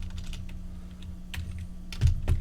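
Clicking keystrokes on a computer keyboard typing a search term, a few scattered taps and then two louder key presses close by over a faint steady hum.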